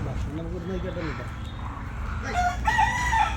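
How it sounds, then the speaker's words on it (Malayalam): A rooster crows among country chickens perched in a tamarind tree near a palace, a clear nearby crow early on, then higher calls, with people talking throughout. "പുളിമരത്തിൻ്റെ മുകളിൽ നിറച്ച് കോഴികളിരിക്കട്ടെ"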